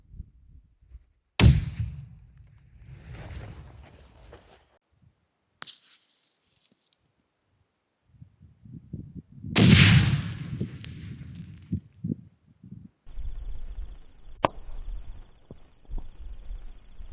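An RGO Soviet impact hand grenade bursts outdoors with a sharp, loud crack near the start, then a second, bigger blast rolls out several seconds later, each followed by a fading rumble and scattered debris noise.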